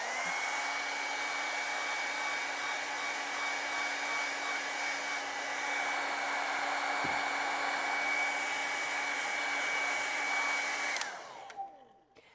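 A hair dryer blows continuously on acrylic paint for a penguin painting, a close, steady whirring roar with a constant tone that cuts off abruptly near the end and fades away.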